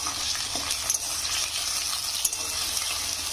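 Potatoes frying in oil in a pan: a steady broad sizzle throughout, with a few small pops and crackles, close and moderately loud, no voices.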